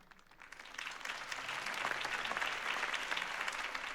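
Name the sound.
crowd applause, Batman The Telltale Series video game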